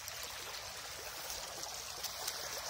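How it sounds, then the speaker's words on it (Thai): A shallow stream trickling gently at a weak flow, a faint continuous watery hiss with small burbles, heard alone and at a distance. "น้ำก็ไหลไม่แรงนะครับน้ำไหลไม่ค่อยแรง"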